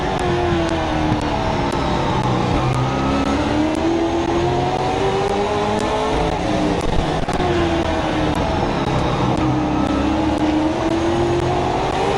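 Race cars circling a dirt oval during a speedway heat race, engines roaring continuously and loudly with rising and falling pitch as they pass, dense and unbroken throughout.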